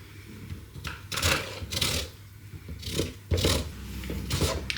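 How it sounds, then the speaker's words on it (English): Lemon being zested with a Joseph Joseph hand zester, giving repeated scratchy rasping strokes in irregular bursts, close and fairly loud, with no talking. "then of course, we do the zesting first"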